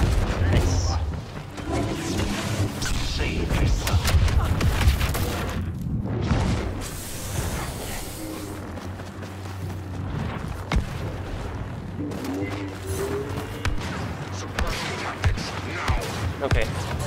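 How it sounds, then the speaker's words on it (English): Repeated booming explosions and rattling blasts fill a Star Wars Battlefront 2 game scene, loud and chaotic, with someone talking over the noise. "There's too many explosions going on right now."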